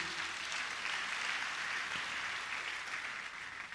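Applause from an audience, a steady wash of clapping at moderate loudness that carries on throughout, with no voices.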